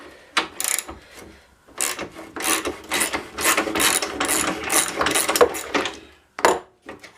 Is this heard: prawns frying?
no